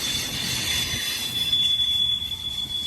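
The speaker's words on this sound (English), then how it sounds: "There's 3 more locomotives on the back." A BNSF eastbound intermodal freight train with several locomotives, including extra units at the rear, rolls past nearby, its steel wheels squealing high and steady over a low rumble of cars on the rails.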